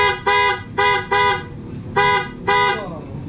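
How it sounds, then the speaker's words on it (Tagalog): A PIAA aftermarket horn on a Honda Click V2/V3 scooter blares in five loud, close honks, mostly short bursts with a couple of slightly longer ones, separated by brief gaps. "pagka bumusina tayo"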